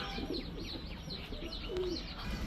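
A male Chuina Chuithal pigeon cooing softly in repeated low murmurs among other pigeons, with light chirps and cooing from nearby birds in the background.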